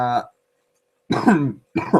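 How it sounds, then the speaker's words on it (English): A person coughs in short harsh bursts, close and loud, two coughing fits separated by a brief silence. "Shit, I'm coughing like a motherfucker."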